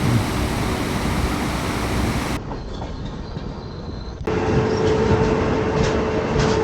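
The Himasagar Express rolls into Nagercoil Junction station with a loud, continuous rumble of wheels on rails, heard from on board. The level dips briefly midway, then the heavy roar returns.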